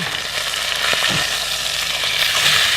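Atlantic salmon sizzles steadily in a hot pan, a close, continuous crackle of frying fat that holds an even loudness throughout, with a few soft scrapes mixed in and no voices.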